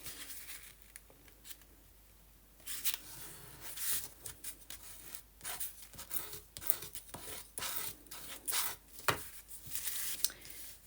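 Paper being handled and folded into a flat envelope along a crease for handmade antique-style envelopes with fabric and lace, heard as close, irregular rustles, crinkles and sharp creasing swipes with quiet gaps between them.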